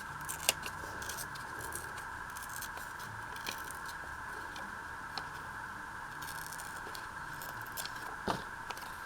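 Faint snipping of scissors fussy cutting paper for a craft, small irregular snips and paper rustles over a steady electrical hum, with no talking.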